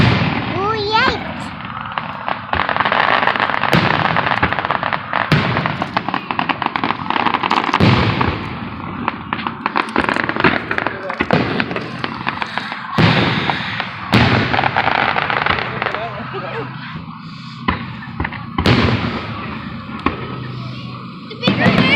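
Fireworks and firecrackers burst continuously at a powwow, a dense barrage of loud cracks and booms with sharp individual pops standing out, while people nearby talk and react over the noise.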